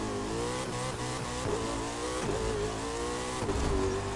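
A McLaren P1 engine revving hard in The Crew 2, a steady loud mid-pitched roar that rises and dips through shifts, with a whining tone on top and no speech.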